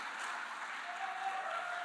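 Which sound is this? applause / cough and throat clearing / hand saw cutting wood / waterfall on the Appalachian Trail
applause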